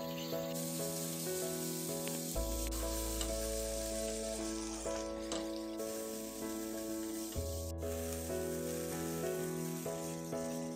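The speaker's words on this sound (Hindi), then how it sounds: "इनको हम गोल्डन ब्राउन होने तक भून लेंगे।" Two large finely chopped onions fry in hot oil, a steady close sizzle and hiss with occasional stirring scrapes, while soft background music plays throughout.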